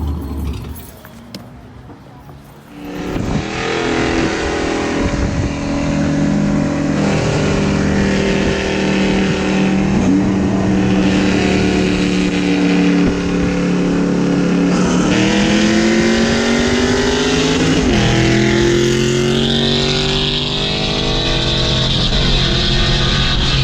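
A 3V Mustang GT engine pulls hard on a highway from inside the car. A loud, sustained roar climbs in pitch, drops sharply at gear changes and then climbs again, with no talking.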